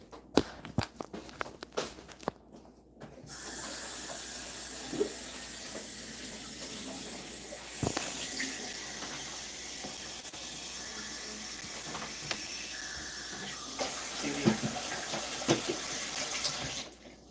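Water runs from a kitchen tap while Filipino dishes are cooked, a steady loud splashing gush that starts after a few seconds of clatter and continues, briefly shifting in intensity, before cutting off at the end.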